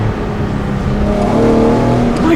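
An Infiniti G37 sedan fitted with Stillen long tube intakes revs, giving a low, steady growl that rises slightly in pitch, heard from inside the car over road rumble.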